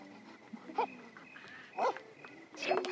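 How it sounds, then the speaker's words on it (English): A pup barks indoors in three short, spaced bursts, fairly close and moderately loud, each bark sharp and slightly whiny against a quiet room. "What are you barking at?"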